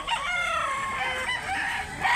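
Rooster crowing among chickens at a poultry market in Mantalungon, Barili, South Cebu, a single drawn-out crow fairly close over a busy background.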